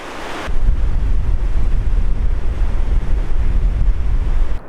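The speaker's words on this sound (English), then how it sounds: "It's one of Canada's tallest waterfalls." A constant roar of falling water pours from one of Canada's tallest waterfalls in the Yoho Valley, a loud, dense, unbroken rush mixed with wind buffeting the microphone.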